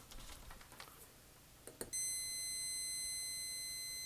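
A multimeter set to ohms for a continuity test gives a single sustained high electronic beep that starts sharply midway, after a few faint handling clicks, and holds steady to the end.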